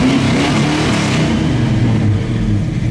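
A 1971 Chevy Nova engine revving to 3,500 RPM, heard close and loud as a steady, throaty drone that holds high throughout.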